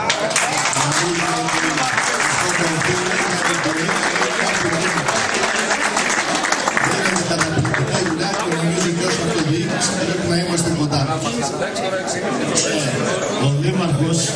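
An audience at a local sports gathering honoring a championship team claps steadily and loudly throughout, with crowd chatter and a voice speaking over the sustained applause.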